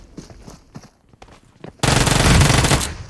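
Machine gun fire in the video game PUBG on the Erangel map: a loud, sustained rapid burst near at hand, following a few quiet soft thuds and footstep-like taps.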